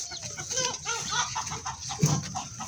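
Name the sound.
naked neck hen clucking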